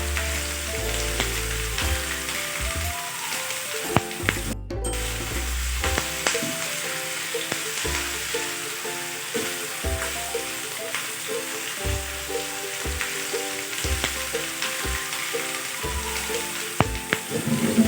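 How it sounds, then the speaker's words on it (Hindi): Boneless chicken pieces fry on a hot tawa with a strong, continuous crackling sizzle and occasional spatula clicks, while soft tuneful background music plays underneath. "तो चिकन को मैंने तवे पे डाल दिया।"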